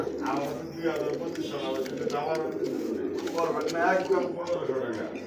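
Rasgolla breed pigeons, a big pair, coo in low rolling bursts that come again and again, close up and steady, with faint voices underneath.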